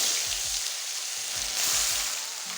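Onion, garlic, ginger and green chilli paste frying in a pan, a steady bright sizzle that swells and eases slightly with faint low clinks of stirring, close and continuous with no talking.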